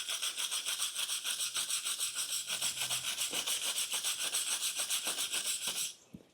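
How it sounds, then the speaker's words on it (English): A wire brush scrubs loose concrete and debris from a pitted, chipped garage floor, making rapid rhythmic rasping strokes, steady and close for about six seconds before stopping. "take a wire brush and just brush this off, trying to get any loose concrete or debris out of the hole or the spall"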